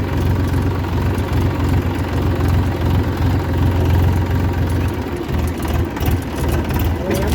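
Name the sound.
Massey Ferguson tractor engine idling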